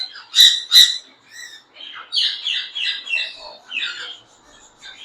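Java sparrows and finches kept for sale chirp close by, two sharp loud calls followed by a run of quicker twittering and squeaky notes in a quiet room.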